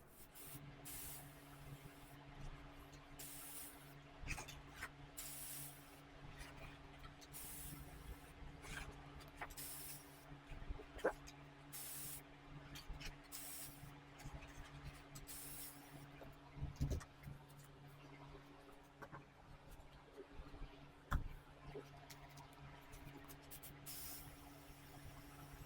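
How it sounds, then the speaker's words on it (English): White spray paint hisses from an aerosol can in repeated short bursts of varying length, fairly close, with small knocks and handling noises between sprays. "I'm going to spray it with white paint to begin with"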